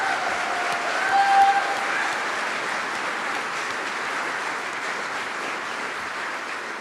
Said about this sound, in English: Give Karen a great round of applause.